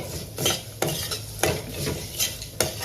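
Dal dry-roasting in a pan is stirred with a spoon, rhythmic scraping strokes roughly every half second to second over a soft dry crackle, close and moderately loud, no talking.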